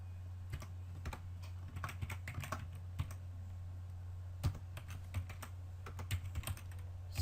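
Computer keyboard being typed on to enter a date in a word processor: scattered, crisp individual keystrokes at an irregular pace over a low steady hum.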